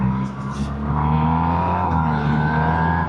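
A 2026 BMW R1300R ASA motorcycle engine pulls hard during an overtake, a loud, steady rising drone with strong harmonic tone and wind rush, close to the rider, with no talk.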